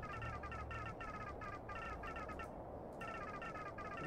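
A cat meows repeatedly in short rhythmic calls, fairly clear above a constant loud background rumble, with a brief pause before the calls resume.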